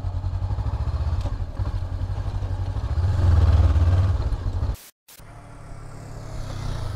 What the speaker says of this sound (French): Je range ta moto.